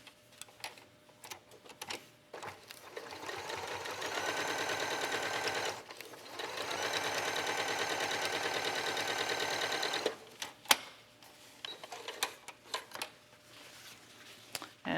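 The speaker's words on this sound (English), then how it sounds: "I'm just going to sew a regular 1/4 inch seam." A sewing machine stitches a regular quarter-inch seam on a quilting piece, running in two sustained, close bursts of rapid mechanical whirring separated by a short pause, with quieter handling clicks and rustles before and after.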